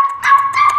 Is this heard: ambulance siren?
no